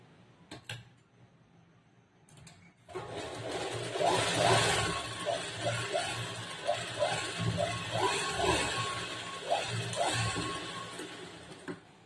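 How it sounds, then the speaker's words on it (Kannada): A sewing machine running a double line of stitching on a katori blouse, a fast, steady mechanical chatter in bursts that starts after a quiet opening and continues close and loud for about nine seconds. "ಇದಕ್ಕೆ ಡಬಲ್ ಹೊಲಿಗೆ ಹಾಕ್ತೀನಿ ನಾನು."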